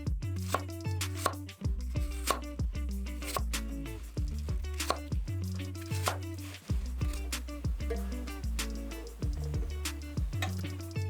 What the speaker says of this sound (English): Peel and core each one and slice into smaller cubes.